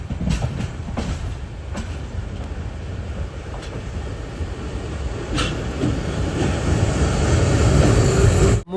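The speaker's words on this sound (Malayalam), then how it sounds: "ഒരു ഷണ്ടിങ് ചെയ്തൊരു ട്രെയിൻ പോകുന്നത് കാണാം" A shunting train passes at Kanniyakumari railway station with a loud, continuous rumble and intermittent wheel clacks, growing heavier toward the end.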